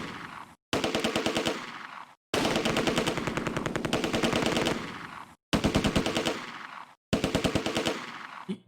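Rapid automatic gunfire from the World War II strategy game Close Combat: A Bridge Too Far, loud and close, coming in four long sustained bursts separated by brief silent gaps.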